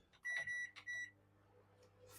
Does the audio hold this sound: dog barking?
no